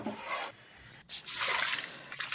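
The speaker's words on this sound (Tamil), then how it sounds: "300 ml வாட்டர் ஆட் பண்ணிங்க" About 300 ml of water is poured into a pot of sweet corn being prepared for a street-food corn chaat, giving a soft splashing, trickling rush in two short bursts with a brief pause between.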